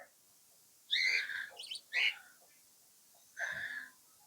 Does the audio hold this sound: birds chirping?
yes